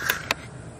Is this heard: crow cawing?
yes